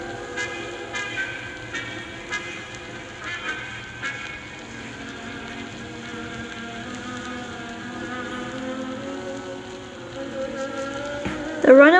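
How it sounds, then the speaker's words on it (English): A runaway train with no way to stop rumbles steadily with sustained metallic tones and squeals, rising briefly to a louder screech near the end. "The runaway train is going to hit that other train."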